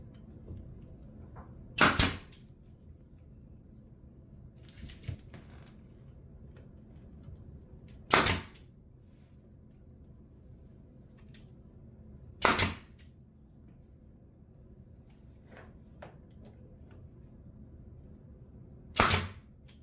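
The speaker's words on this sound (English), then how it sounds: "So I'm gonna just shoot some brad nails in here" A brad nailer powered by a compressor drives nails into kitchen island trim, four sharp isolated snaps spaced several seconds apart over a faint background hum.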